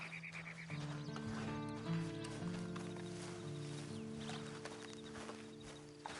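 Horse in Red Dead Online walking with clip-clop hooves and giving a whinny, heard under steady game music and ambient sound throughout.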